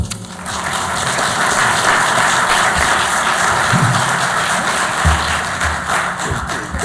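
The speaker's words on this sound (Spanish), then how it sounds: "les pido un fuerte aplauso por él" Audience applause at a book presentation in a Senate hall, a loud continuous wash of clapping throughout, with a few low thumps near the end.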